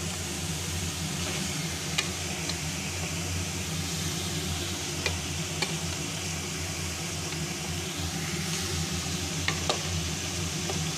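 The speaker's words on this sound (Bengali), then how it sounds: "এবার আমি ভাজা মাছটা দিয়ে দেব" Fried hilsa pieces go into a pan of cooked-down mustard-poppy masala, giving a steady close sizzle with occasional sharp ticks and light stirring scrapes, no voices.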